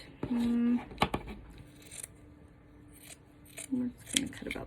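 Scissors snip through a black sock being cut up for gnome shoes. A few close, crisp cutting strokes come in short bursts with pauses between them, and a faint hum runs underneath.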